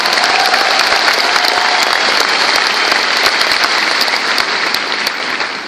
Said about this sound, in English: So give yourselves a huge round of applause.